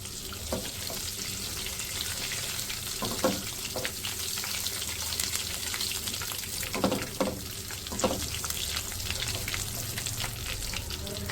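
Whole spices, including green cardamom, dried fenugreek leaves and bay leaves, fry in oil in a pan for keema, giving a steady close sizzle with occasional clicks of stirring throughout.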